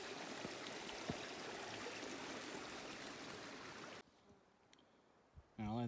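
Powderface Creek, a small mountain stream in the Kananaskis Rockies, gurgling and trickling steadily nearby for several seconds before cutting to quieter background with a brief rustle.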